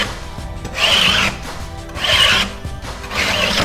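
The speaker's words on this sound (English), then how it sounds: "we're gonna take our knife and we're just going to scrape the boogers off" A knife scrapes dried lumps off a Marmorino lime plaster texture coat on an accent wall, three rasping strokes about a second apart, close and fairly loud with no talk.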